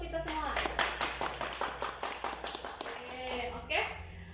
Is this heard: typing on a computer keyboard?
no